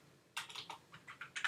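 Typing on a computer keyboard during a networking demonstration: a short quick run of soft, close key clicks, about eight taps in irregular rhythm after a brief quiet start.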